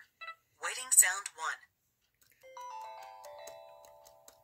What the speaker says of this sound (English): Now that's the standard sound you hear when the Bookport Plus is busy.